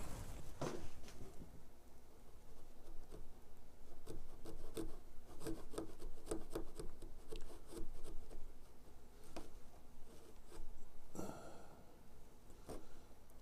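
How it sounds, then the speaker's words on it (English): A hand scratch stock scrapes a reed into a wooden Federal period table leg, giving faint, close rasping strokes in an uneven rhythm over quiet background, with no talk. "Then take my scratch stock and just extend this."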